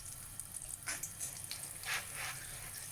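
A pot of water boils on the stove for spaghetti, making a steady hiss with scattered soft bubbling and sloshing bursts throughout.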